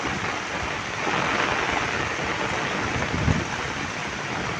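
Floodwater from a swollen creek at Purok 7, Barangay Tignoan, Real, Quezon Province, rushing past as a loud, steady broadband roar with no pauses, close and continuous throughout.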